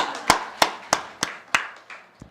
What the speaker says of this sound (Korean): 우리 박수 한번 쳐줘요.